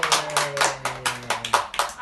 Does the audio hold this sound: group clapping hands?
yes